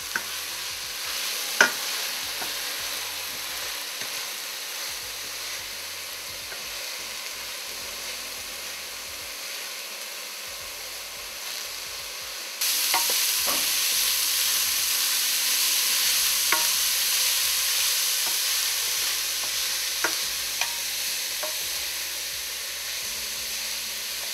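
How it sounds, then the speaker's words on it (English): Vegetable puff filling sizzles and fries steadily in a pan while a spoon stirs it, with occasional scrapes and clinks against the pan and a brighter sizzle partway through. "I'm going to mix it well so then everything can get cooked evenly and it won't stick to the bottom."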